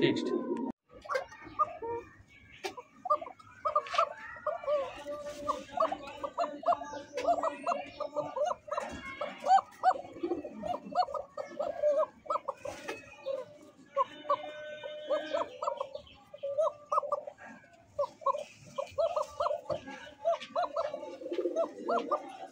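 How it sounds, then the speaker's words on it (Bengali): A pair of Arabian cocker pigeons, a male and a female, coo in soft repeated low calls through the whole stretch, with some other birds chirping and occasional talk nearby. "দেখার মতো অ্যারোবিয়ান ককার একটা জোড়া, ডানে মাদি বামে নর, সুন্দর ডাকে"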